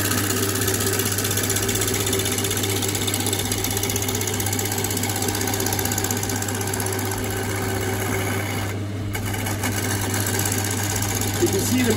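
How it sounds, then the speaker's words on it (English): A wood lathe spins steadily while a gouge makes a parallel cut along the edge of a wooden workpiece. The motor hum and cutting hiss run continuously at close range, with a brief dip near the end. "this is parallel turning because I'm going parallel with the edge of the piece of wood"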